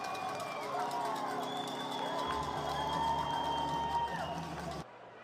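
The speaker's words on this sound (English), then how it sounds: "And the Tilbury crowd goes crazy." A hockey crowd at a Tilbury playoff game roars after a Tilbury goal, a sustained, dense wash of cheering under an excited commentator's voice that cuts off abruptly near the end.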